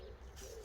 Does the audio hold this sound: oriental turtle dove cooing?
yes